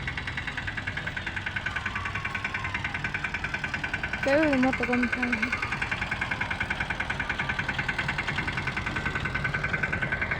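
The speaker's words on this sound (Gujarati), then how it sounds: "આ ટ્રેક્ટર આપણે લઈને આવ્યો," A tractor engine idles nearby at a Holi festival fair by a temple, a steady rhythmic chugging and knocking throughout, while a person talks over it.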